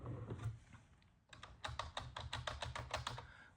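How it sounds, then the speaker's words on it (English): Quick bursts of clicking keystrokes on a computer keyboard, close and fairly quiet, in a steady rhythm after a short pause, with no voices. "you can just type in the description in here"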